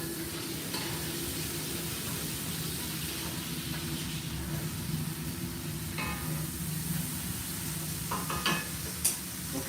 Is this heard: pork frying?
yes